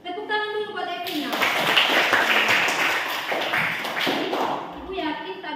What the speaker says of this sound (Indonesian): Tepuk tangan dulu buat Evina.